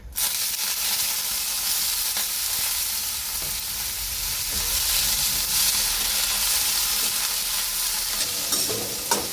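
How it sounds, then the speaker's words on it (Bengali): Banana flower pieces fry in hot oil in a kadai, giving a loud, steady sizzle and crackle that holds throughout without speech. "তেল গরম হয়ে গেছে, মোচাগুলো ভেজে নেব।"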